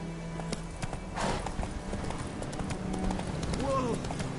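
Roach, Geralt's horse in The Witcher 3, trots on hooves in a steady clip-clop rhythm, with a voice speaking over it and a brief whinny-like cry near the end.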